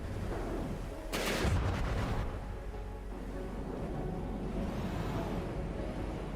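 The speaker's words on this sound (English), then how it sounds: "Missiles popping in here" Missiles launch in the naval combat game From the Depths: a sudden loud whooshing burst followed by rumbling blasts, then a lingering low roar and a fainter rushing sweep.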